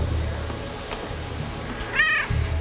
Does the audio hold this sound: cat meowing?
yes